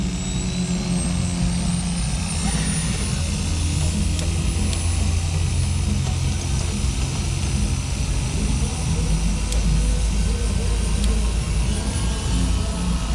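An AH-1F Cobra helicopter's engine runs up during a start at an airshow, giving a loud, steady turbine roar with a rising high whine that holds throughout, heard close from the cockpit with no talking.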